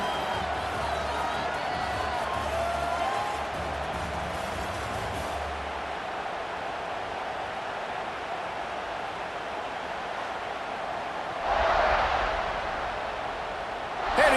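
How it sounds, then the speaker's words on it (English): The stadium crowd at a College Football 26 video game match between Tennessee and Florida roars as a continuous broad wash of cheering, swelling briefly louder near the end, with a commentator's voice over it. "Listen to this crowd just shaking the girders of this place trying to help their defense."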